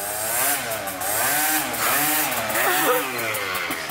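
A chrome two-seat motorcycle engine revs loud and close, its pitch rising and falling in repeated swells with a rough, buzzing edge.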